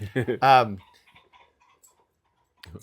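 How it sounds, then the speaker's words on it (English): Pheasants call with a short burst of harsh, harmonic squawks, then fall quiet, with a faint rustle near the end. "They sound like pheasants. They are pheasants."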